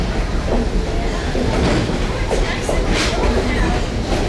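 Steady rumble and rattle of the Strasburg Rail Road's number 90 train heard from on board, a continuous loud roll with faint clickety-clack of the cars over the rails.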